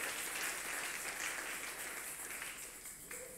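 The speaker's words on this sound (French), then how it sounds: "Applaudissons la parole de Dieu." A church congregation applauds steadily for the full stretch, dense crowd clapping that stays even and fairly distant, fading slightly near the end, with no clear talk over it.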